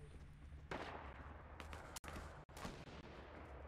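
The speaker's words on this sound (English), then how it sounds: "Shots are close." Gunshots nearby in the Fortnite video game: a few sharp cracks with noisy tails over a constant low game rumble, fairly quiet overall.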